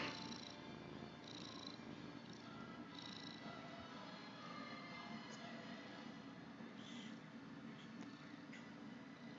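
A Siamese cat purrs steadily and close up, a low continuous rumble that runs the whole time with no talking over it.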